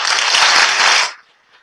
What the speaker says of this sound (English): We'd like you to hear our applause first.